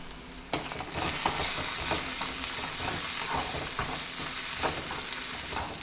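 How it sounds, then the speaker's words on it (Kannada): Kasuri methi (dried fenugreek leaves) fries in a pan with a steady, close sizzle, broken by a sharp clink near the start and repeated stirring scrapes. No one speaks. "ಅದು ಫ್ರೈ ಆಗಲಿ, ಅದ್ರ ಫ್ಲೇವರ್ ಚೆನ್ನಾಗಿ ಬರುತ್ತೆ"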